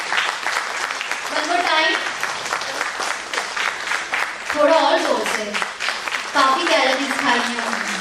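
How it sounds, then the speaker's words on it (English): An education summit audience claps loudly and steadily throughout, a dense sustained applause with voices and cheers mixed in. "Clapping. One more time. थोड़ा और जोर से."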